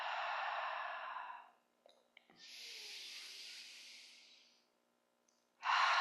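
Long breathy exhalations through the mouth during yoga breathing, each a soft airy whoosh lasting a second or more, with a brief pause and small clicks between, close and moderate in level.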